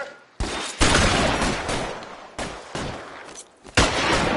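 Gunfire during a shootout in the game L.A. Noire, in the Elysian Fields mission: several loud, close volleys of rapid shots separated by brief pauses, with no talking.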